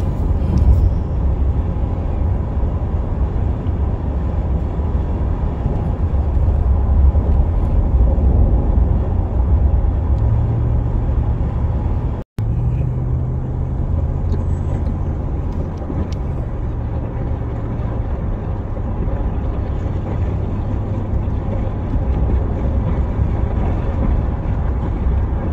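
A car drives along quiet, clear roads with a steady, loud engine and road rumble from inside the cabin, unbroken apart from one brief dropout midway.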